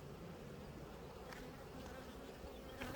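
Honey bees buzz steadily around hive frames heavy with capped honey, a dense close drone with no voices.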